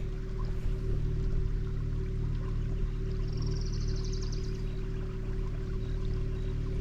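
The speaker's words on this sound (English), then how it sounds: "You can hear some water coming in, flowing from somewhere." Continuous water flows and trickles like a small creek feeding Lake Sonoma, a steady rushing wash with no pauses; a faint bird call rises briefly midway.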